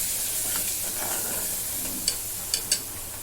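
Chilli powder and garam masala being stirred into a frying pan for leftover-vegetable masala rice, a soft steady sizzle with a few sharp scraping clicks of the spoon near the end, no talking.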